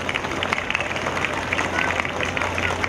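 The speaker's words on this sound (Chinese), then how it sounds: "大家应该给他们一个掌声" An audience claps at the opening of the Kaohsiung children's arts education festival and Asian children's arts festival, a dense patter of applause mixed with crowd murmur and voices.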